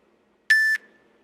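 One short, clean electronic beep from a workout interval timer, sharp and tonal, lasting about a quarter second in otherwise near silence.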